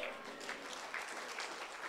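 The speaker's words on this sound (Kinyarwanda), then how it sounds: "Amashyi menshi umwami Yesu Kristo." A church congregation applauds in dense, steady clapping with no pauses, fairly faint and evenly sustained throughout.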